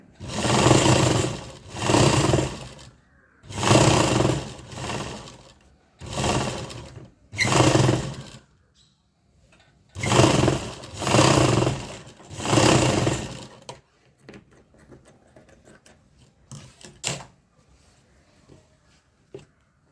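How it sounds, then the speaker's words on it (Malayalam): A sewing machine stitches a saree blouse in a tailoring class, running close and loud in several bursts of a second or two, with short pauses between them, then fading to faint handling noises. "ഞാനിപ്പോൾ ഇത് വെച്ചിങ്ങനെ സ്റ്റിച്ച് ചെയ്ത് എടുക്കുന്നുണ്ട്"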